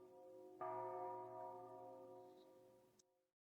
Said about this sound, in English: It sounded like bells.